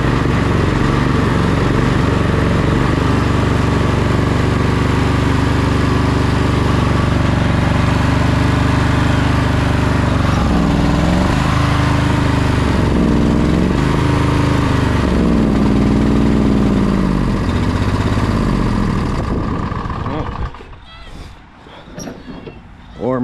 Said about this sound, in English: I wonder if it's running on one cylinder.